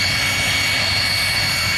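Aircraft engines hum steadily at an air show as planes taxi out, a constant droning tone fairly close by, with no talk over it.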